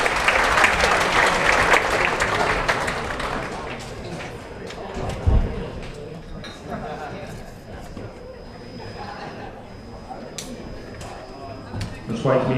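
Audience applause at a live comedy show at the Edinburgh Fringe, a loud sustained burst of clapping and crowd noise that slowly thins out, with a few thumps and scattered claps near the end.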